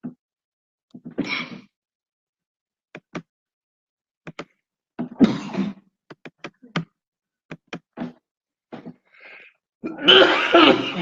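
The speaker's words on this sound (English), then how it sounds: "the coughing isn't good" Scattered coughs and throat clearing break a quiet room, some single and some in short bursts, ending with a louder, rougher coughing fit.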